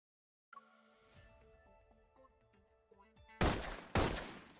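Two loud gunshots from a pistol firing its last bullets in the Love and Deepspace video game, each a sharp broadband crack with a ringing tail, coming after a quiet stretch of soft game music.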